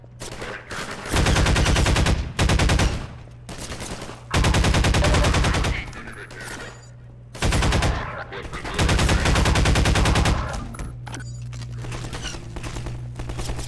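Pulse rifle fire in the Half-Life 2 video game comes in loud, sustained automatic bursts of a second or two each, separated by short gaps of quieter battle noise.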